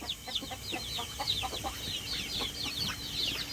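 Bantam chickens cluck in rapid, faint bursts, with several birds chattering close together in a quiet outdoor yard and no talk over them.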